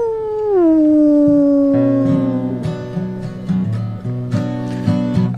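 A singer's voice imitates a she-wolf howling, starting with a long sliding wail that drops in pitch, then breaking into wavering yips and whimpers, loud and close.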